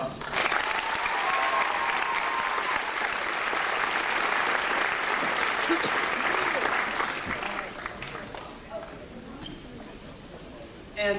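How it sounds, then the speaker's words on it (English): A school assembly audience gives a round of applause, loud steady clapping from many people that gradually thins and fades toward the end. "I think we need to give them a round of applause"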